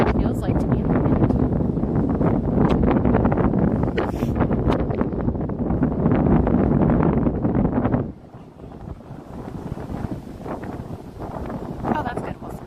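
Strong wind buffets the microphone outdoors among cherry blossom trees in Washington DC, a loud rumbling roar that drops to a softer gusting hiss partway through, with a voice speaking over it.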